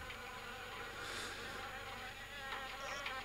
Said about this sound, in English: The attic window is the perfect nesting ground for wasps, which look like are all over this place.